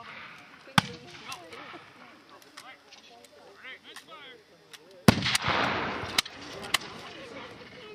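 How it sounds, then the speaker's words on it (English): Flintlock muskets fired by re-enactors of the 1st Regiment of Foot at a War of 1812 re-enactment, with two sharp cracks, one early and one loud later, plus a few fainter pops outdoors. People talk over and between the shots. "Now these are flintlock muskets, and you'll notice a lot are not igniting and going off."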